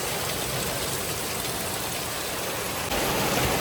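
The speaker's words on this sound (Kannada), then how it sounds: "ಎಷ್ಟೊಂದು ಮಳೆ ಬಂದ್ಬಿಟ್ಟಿದೆ" Steady, dense downpour of heavy rain hissing continuously, loud and close, with no voices; the roar swells slightly near the end.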